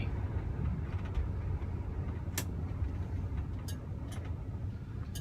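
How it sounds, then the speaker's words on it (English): A 1971 Oldsmobile Cutlass S with its 350 V8 idles in a low, even rumble, fairly quiet and steady, with a few faint clicks and ticks on top and no talking. "And the sound of that burly 350."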